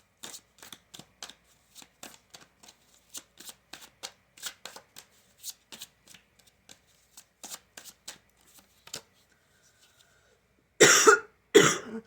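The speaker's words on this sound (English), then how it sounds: "let me look at the bottom of the deck" A deck of tarot cards is shuffled close up in a steady series of quick riffling bursts, each short and crisp, followed by a pause and then two louder, longer flurries of shuffling near the end.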